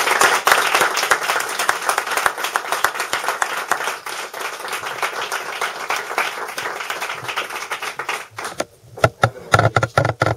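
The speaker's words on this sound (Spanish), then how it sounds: "demos un aplauso para los invitados" An audience in a bookshop at an open-mic poetry evening gives the guests a dense, steady round of clapping that carries for several seconds before thinning out into a few scattered, louder claps near the end.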